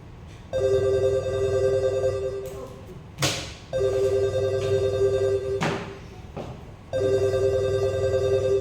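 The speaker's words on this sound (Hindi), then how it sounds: "मैडम रिंग बज रहा है, फोन उठाएगा तब बात करेगा ना" A telephone bell rings in repeated bursts with short gaps during a Hindi stage play, loud and close, with a few thumps between the rings.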